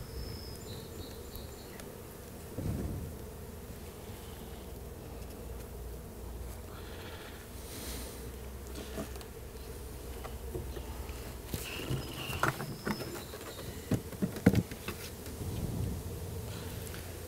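Honey bees buzz around an opened beehive, a faint, diffuse outdoor drone with scattered clicks and knocks from handling the hive, and a few louder bumps toward the end.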